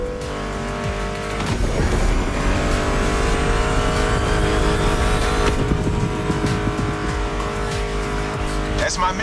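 Car engines racing in The Crew Motorfest, with a loud sustained roar and rising revs, brief tire squeal, and music playing underneath throughout.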